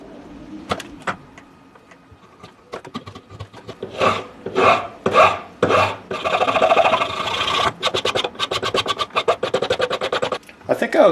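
Rasp scraping and shaping a carved wooden fishing lure body shaped like a perch, in bursts of rhythmic strokes that grow denser and faster toward the end, close up, with brief speech.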